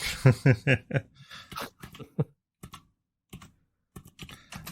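Close keyboard typing while searching a player's name on Twitter, bursts of clicking keystrokes in a quiet room with short pauses between runs.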